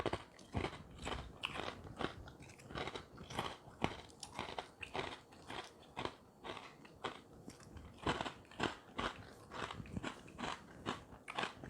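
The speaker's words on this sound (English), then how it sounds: "It has a really nice crunch to it." Fruity low-carb keto cereal is eaten up close, with loud, crisp crunches repeating in a steady chewing rhythm, each bite crackling sharply and then dying away, with no talking.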